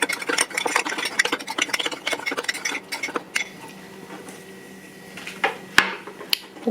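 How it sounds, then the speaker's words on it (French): A dough mixture with yeast being stirred in a bowl: quick repeated scraping and clinking strokes for about three seconds, then quieter, with a few sharp isolated clinks near the end. "On mélange."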